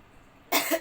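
A person sick with fever and a cold gives a single harsh cough at close range after a moment of near quiet.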